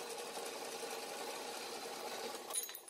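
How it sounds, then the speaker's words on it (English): Bandsaw cutting a rough wrench shape from metal stock, a steady continuous whirring buzz that holds even throughout, with a slight rise near the end. "So I start by cutting out the rough shape on the bandsaw for the overall wrench."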